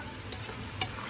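Butter-sauce fried chicken (ayam goreng mentega) is stirred in a pan, with a few light spoon clicks over a steady, soft sizzling hiss and no talking.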